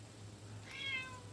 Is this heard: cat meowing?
yes